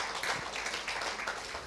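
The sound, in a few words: round of applause for a conference presenter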